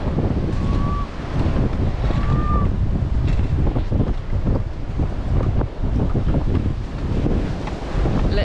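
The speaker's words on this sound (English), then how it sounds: "this wind is crazy" Strong wind blasts continuously outdoors on a rural property after a snowstorm, a loud roaring rush buffeting the microphone with gusty swells and faint creaks, and no one talking.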